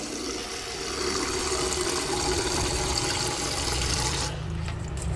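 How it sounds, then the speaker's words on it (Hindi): Water runs from the tap of an AO Smith geyser water heater in a steady, close gush that lasts about four seconds, then the flow changes and eases off. "तो गीज़र से ही पानी लेते हैं पहले"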